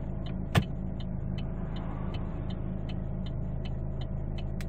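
A Chevrolet Lacetti diesel engine idling in drive gear, a low steady rumble with a regular ticking clatter, heard close inside or beside the car, with one brief knock early on.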